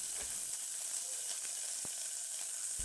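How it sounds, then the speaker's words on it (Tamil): A steady hiss of chopped onions sizzling in hot oil in a pan runs throughout, with a few faint clinks of stirring. "ஒரு கடாயில் எண்ணெய் போட்டு எண்ணெய் சூடானதுக்கப்புறம் நறுக்கி வச்ச வெங்காயங்களை போட்டுடணும்"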